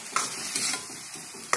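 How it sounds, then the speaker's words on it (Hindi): Ground onion paste frying with whole spices in a pan for a Pahadi-style fish and rice dish, a steady close sizzle with soft stirring scrapes and a couple of sharper clicks, no voices. "कोई कम से प्याज को 4 से 5 मिनट तक पकाएं, तो कलर इसका चेंज हो जाएगा"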